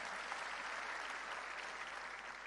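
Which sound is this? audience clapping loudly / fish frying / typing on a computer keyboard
audience clapping loudly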